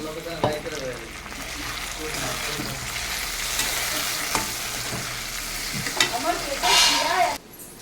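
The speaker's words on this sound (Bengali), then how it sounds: "আমার পেঁয়াজটা ভাজা হয়ে গেছে, আমি এখন ভিতরে দিয়ে দেবো টমেটো কুচি।" Chopped onion and tomato fry noisily in oil in a pan while being stirred, a steady sizzle broken by scraping and clinks of the spatula, with a brief louder hiss near the end.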